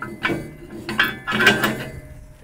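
Pin pushed into the breakaway bar of a Ranch Rite 7-head disc mower during assembly, a few short metallic clanks and ratcheting clicks, close and brief.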